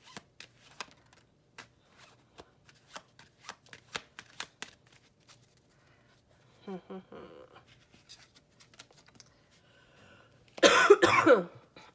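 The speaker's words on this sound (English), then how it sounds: "So sorry for coughing so much." A close cough bursts out near the end, after quiet shuffling and handling noises and a brief rustle.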